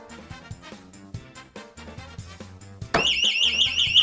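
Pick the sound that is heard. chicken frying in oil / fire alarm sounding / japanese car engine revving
fire alarm sounding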